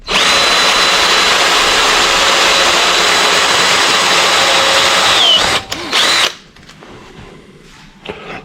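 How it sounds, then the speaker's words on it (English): A power drill bores three holes in the corner of a homemade waste oil heater burner, whining loudly and steadily for about five seconds before stopping with a few brief bursts, then quiet. "So I'm drilling 3 holes here on the corner"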